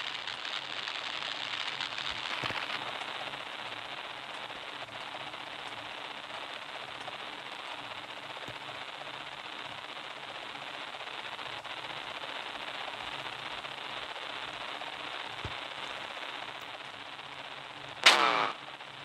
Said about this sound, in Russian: Смотрите, кстати, как он стреляет.